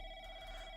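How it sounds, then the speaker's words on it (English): A telephone in a found-footage horror game, a brief steady electronic ring tone, faint and alone. "Someone is calling."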